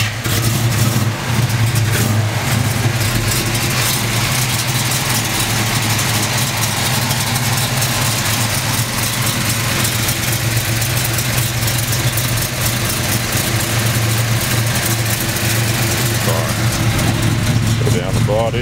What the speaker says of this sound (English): We're going to go ahead and start it up for you here.